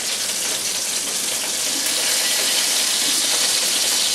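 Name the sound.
sauce boiling in a pan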